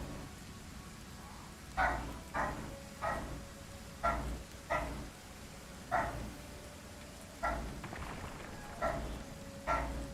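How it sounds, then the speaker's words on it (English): A dog barking in short repeated bursts, about a dozen evenly spaced barks at a moderate distance, heard alone over a low steady background hum. "If you can hear a dog barking,"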